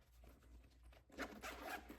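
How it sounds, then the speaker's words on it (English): The zipper on a Longchamp Le Pliage medium tote bag is pulled in a quick smooth run. A quiet rasp comes first, then a brighter, louder zip burst over the second half. "The zipper is great. It's super smooth."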